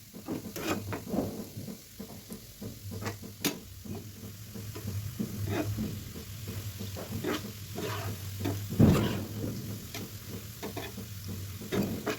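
Gram-flour coated bread slices fry in a pan with a steady low sizzle, broken by scattered clicks and scraping strokes, one sharper knock near the end, with no talking.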